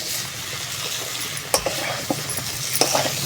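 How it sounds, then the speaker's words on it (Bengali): Vegetables with spices fry and sizzle in a pan under steady stirring, a continuous close hiss broken by a few sharp scrapes and knocks of the spatula against the pan. "সবজিগুলো ভালো করে ফেলে দিই, আমি ভালো করে একটু নেড়ে চেড়ে কষিয়ে ফেলবো"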